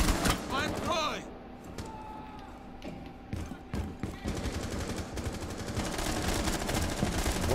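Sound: gunfire in a tactical shooter video game

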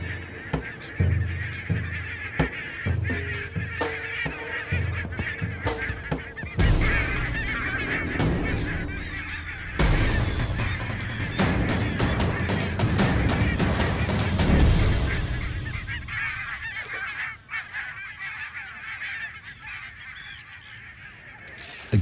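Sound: flock of geese honking

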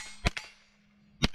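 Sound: gunshots hitting steel target plates

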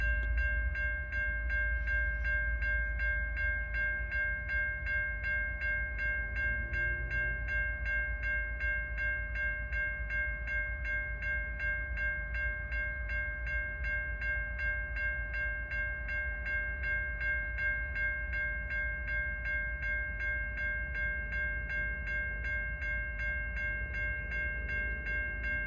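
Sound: CN freight train S773 passing level crossings

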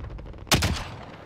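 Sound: gunfire from a sniper video game

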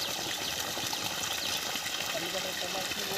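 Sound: water pumped by 900W BLDC motor flowing into field channel

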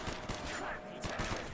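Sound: gunfire in Call of Duty Black Ops zombies video game

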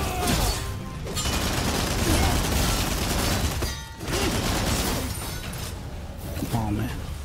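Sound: gunfire in the video game Rise of the Ronin

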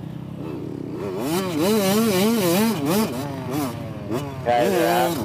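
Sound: dirt bikes riding on a track

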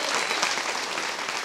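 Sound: audience applauding for Arthur

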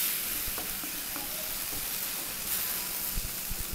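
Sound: sorrel leaf gravy mixture cooking in a pan

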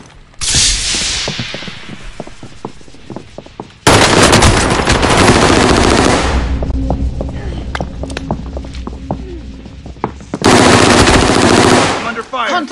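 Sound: gunfire in a video game

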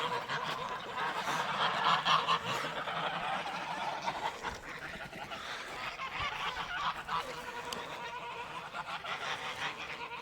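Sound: geese honking, Chinese goose and other geese

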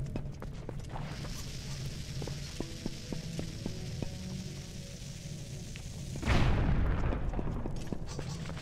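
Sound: bomb explosion in video game Zelda: Twilight Princess

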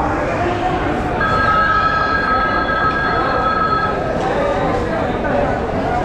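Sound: train arriving at railway station

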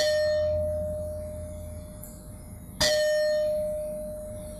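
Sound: struck stone ringing like a bell, E flat

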